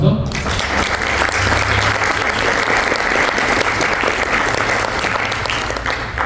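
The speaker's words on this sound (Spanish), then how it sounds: "Un aplauso." An audience claps loudly and steadily for a lecturer at a university event. The dense applause fills the room and carries on for about six seconds, with some voices mixed in beneath it.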